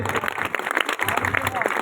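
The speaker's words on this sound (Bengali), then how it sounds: "এই ছোট্ট সুনামণিদের জন্য হাততালি হবে" An audience at a children's prize-giving applauds in a dense, continuous patter of clapping, with a voice speaking over it.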